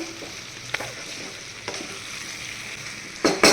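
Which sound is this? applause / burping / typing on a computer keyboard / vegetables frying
vegetables frying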